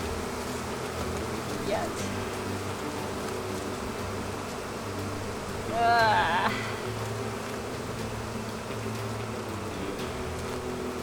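Honey bees buzz steadily around an open, disturbed beehive as they boil out, a dense continuous insect drone with a louder swell of close buzzing midway; a brief spoken word occurs.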